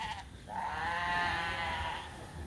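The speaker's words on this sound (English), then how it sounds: "that's a pretty even bunch of ewes" A single ewe bleats on a farm, a drawn-out, wavering call lasting over a second at moderate distance, preceded by a brief faint bleat, with quiet outdoor background and no talking.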